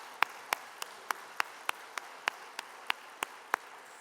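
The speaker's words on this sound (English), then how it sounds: "I'd like to give a huge round of applause" A single pair of hands claps at a conference, about a dozen evenly spaced sharp claps in a slow, steady rhythm over quiet room tone.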